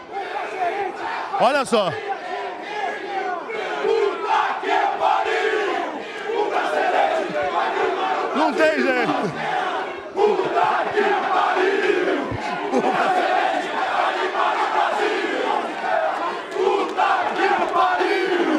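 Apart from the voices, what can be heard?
Brazilian fans cheering and chanting at theatre entrance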